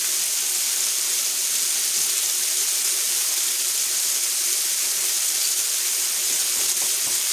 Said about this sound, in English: I'm going to rinse off my fingers a little bit, get the grease off of them.